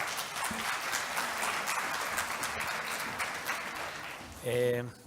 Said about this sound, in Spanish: Así que les pido un fuerte aplauso para él.